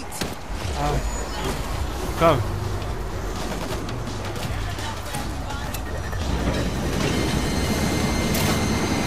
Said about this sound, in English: Stay clear! Train coming through!